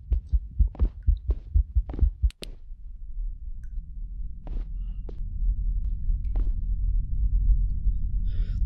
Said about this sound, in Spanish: Escucho los latidos del corazón.